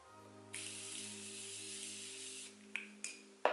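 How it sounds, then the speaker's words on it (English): Makeup setting spray misted onto a face during a holiday glam routine: a steady airy hiss lasting about two seconds, followed by a few short sharp spritzes, close to the mic over a low background hum. "Just apply some makeup setting spray"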